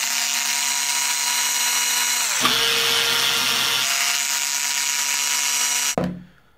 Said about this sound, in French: on va enlever tous les vis et la démonter pièce par pièce